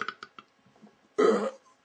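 A human voice imitates a burp: a few soft clicks and breaths, then one short, loud, rough belch-like croak.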